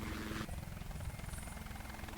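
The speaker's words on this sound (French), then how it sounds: "Hélicoptère!" A helicopter in a video game, its rotor giving a steady low, fluttering drone that continues throughout at a moderate level.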